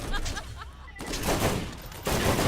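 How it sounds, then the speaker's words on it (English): Dense bursts of gunfire and explosions from the video game Borderlands, loud and continuous, with heavy layered blasts that swell again near the end. "I hear nothing but explosions going off."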